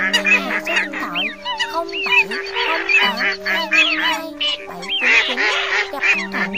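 Recorded wild waterfowl calls of coot, teal and wild duck: dense, continuous honking and quacking from many birds at once, loud and close, overlapping in busy rhythmic bursts with no pauses.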